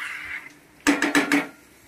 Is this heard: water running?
no